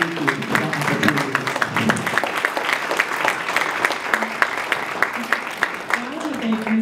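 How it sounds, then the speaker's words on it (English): An audience at a public education forum breaks into applause, a dense patter of many clapping hands that holds steady and loud, with someone speaking faintly underneath. "another round of applause for this"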